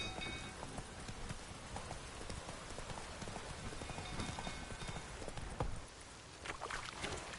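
Roach, the horse in The Witcher III, gallops with fairly faint, steady hoofbeats. They are mixed into a dense wash of ambient game noise that sounds like rain.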